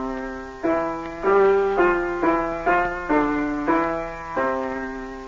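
Piano played by a student one week into a course, a series of about eight struck chords at an uneven pace, each ringing briefly, close and without accompaniment.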